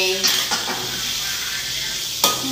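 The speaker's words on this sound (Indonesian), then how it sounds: "aku masak tempe goreng" Tempe frying in a pan in an Indonesian home kitchen gives a steady sizzle and hiss, broken by a few sharp scrapes and clinks of the utensil as it is stirred.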